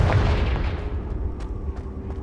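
A Confringo blasting spell explodes in the Hogwarts Legacy video game: a single heavy, close boom that rolls off into a low rumbling decay, with a couple of faint crackles in the tail.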